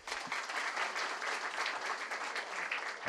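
A Thai business event audience applauds to welcome a guest onstage, a dense, steady wash of many hands clapping at once, held at an even level throughout with no voices standing out.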